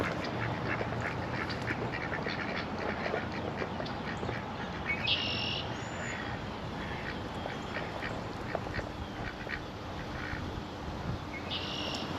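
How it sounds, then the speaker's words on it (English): Ducks quack repeatedly in short calls from the far side of fast-moving flood water after a hard rainstorm, heard under a steady loud rush of water with faint insect chirping. "Don't think the ducks like this water when it's moving real fast."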